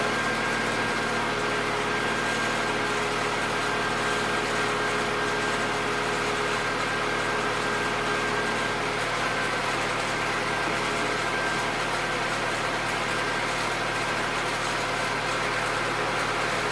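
A car engine idles steadily for a long stretch, a constant even rumble up close with no voices.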